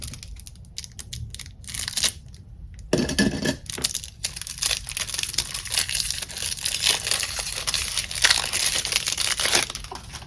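Scissors snip and cut into the plastic and cardboard packaging of a tarot deck, followed by crinkling and tearing of wrapping, close and steady for several seconds.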